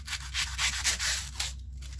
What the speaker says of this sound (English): trim a bit off the bottom